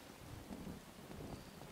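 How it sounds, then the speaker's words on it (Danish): Steady rain pours down with low thunder rumbling through it in the game Uncharted 2: Among Thieves, a dense continuous wash with no voices. "Nu regner det, simpelthen."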